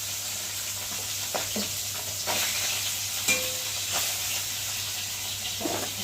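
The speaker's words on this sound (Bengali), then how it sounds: "এখন মাছটা ভাজবো।" Tengra fish fries in hot oil alongside vegetables, giving a constant bright sizzle and hiss with a few soft stirring scrapes and clicks over a low steady hum.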